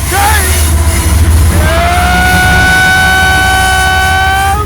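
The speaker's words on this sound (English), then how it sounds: "Got a train." A train rolls by close at an outdoor spot near a rough camp, its steady rumble filling the whole stretch while a long sustained horn-like tone rises and holds over it.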